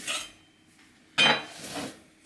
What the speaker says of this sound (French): Le temps de trancher